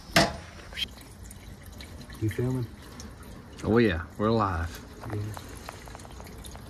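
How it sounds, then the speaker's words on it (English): Water poured into the radiator of a 1967 Chevy 4x4 van, a soft steady splashing and trickle running under a couple of casual spoken exchanges. "We're gonna get some water in it and just pour some water in, let it run a while"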